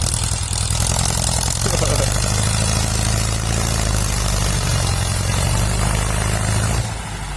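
A Ford 6610 tractor engine strains steadily while pushing a dump truck stuck in mud, a loud, continuous low rumble that holds throughout and eases slightly at the very end.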